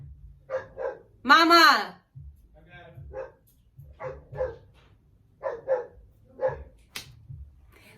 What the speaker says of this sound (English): my dog is barking outside